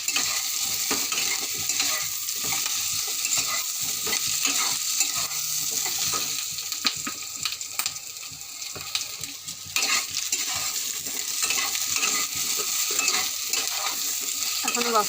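Mixed vegetables including squash, capsicum and potato fry in a pan over reduced gas heat, a constant sizzle under rapid, continuous scraping and tossing strokes of a spatula that keep up a busy rhythm throughout.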